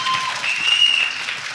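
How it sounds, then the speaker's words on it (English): Brief, steady clapping from a festival crowd for an honored guest, dense and even throughout, with a faint whistle-like tone riding over it. "While you're clapping for Dr. Wallace"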